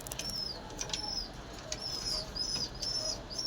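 Pigeons flap their wings in repeated bursts as they run about in agitation, the close fluttering beats sounding against a steady background hiss with brief chirps.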